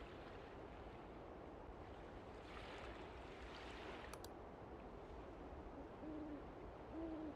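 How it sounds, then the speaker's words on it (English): An owl hoots softly in the video game I'm on Observation Duty 6, a few faint, short hoots near the end over a low, watery ambient wash. "The owls are around."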